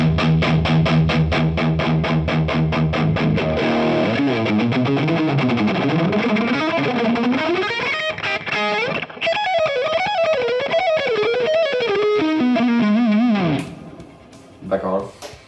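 Heavily distorted electric guitar through a Marshall amp into a resistor load, played loud with bending, sliding lead lines and chugging notes, sustained throughout before trailing off at the end.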